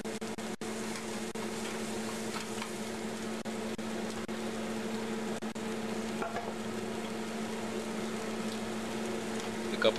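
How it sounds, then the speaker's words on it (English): Spices frying in a pan for chicken Chettinad give a steady, even sizzle throughout, with faint scrapes of stirring and a few soft clicks over a constant hum. "Stir it a bit."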